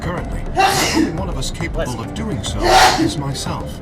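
Two loud, sharp sneezes, one near the start and one near the end, break through steady speech from a voiced game character.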